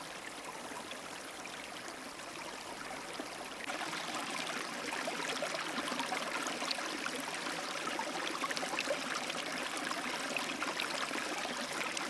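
The Opir river near Skole flows past its bank in a continuous broadband rush of water that grows noticeably louder a few seconds in, then holds steady, with no voices.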